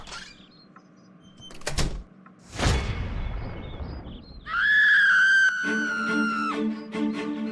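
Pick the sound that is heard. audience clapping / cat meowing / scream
scream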